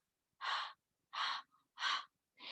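A voice imitates hard breathing after running: four sharp, breathy puffs in an even rhythm, close and isolated against silence.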